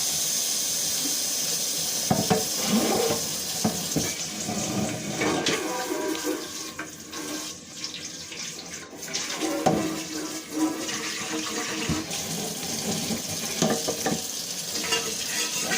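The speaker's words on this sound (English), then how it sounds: "go ahead and add some water, stir it around so it can't settle" Water is poured into a pan of herbal powders for basil-amla hair oil and stirred, giving a continuous splashing, sizzling wash with scraping stir strokes throughout.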